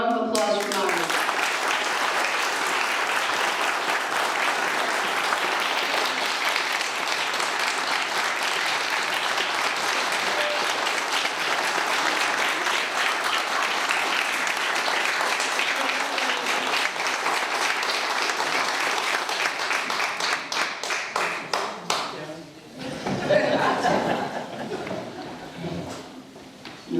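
A senior center crowd applauds at a bocce court dedication, a long, loud, steady wash of clapping that carries on for over twenty seconds before thinning into scattered claps and murmuring voices.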